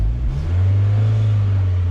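A Mazda Miata engine is revved hard, a steady loud low drone that rises early and then holds, close and alone without talk.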